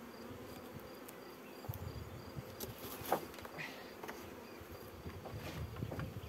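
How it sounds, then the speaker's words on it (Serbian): Honeybees from a freshly caught swarm taken out of a beech tree buzz in a faint, steady hum, with scattered louder passes of individual bees and no talking. "pčela ima dosta ovdje na ovoj strani jer je ovdje med i leglo"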